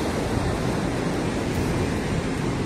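Sea waves rolling in at Perumathura beach, near a harbour where an estuary meets the sea, form a steady broadband wash of surf with wind blowing across it, continuous and fairly loud, with no talking.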